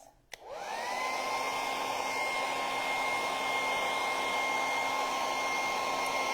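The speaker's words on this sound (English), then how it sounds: "I might just dry this off for a second just to make sure." A hair dryer clicks on and runs with a steady whirring blow, drying paint on a stencilled fall decor sign, close and continuous after a brief start.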